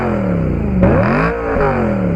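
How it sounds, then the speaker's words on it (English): BMW E92 M3 fitted with a Borla Attack exhaust revs up loudly close by, its pitch rising sharply, dipping, then climbing again in a raspy, throaty exhaust note heard on its own. "it's my Borla Attack exhaust. So here's a sound clip that I'll put in."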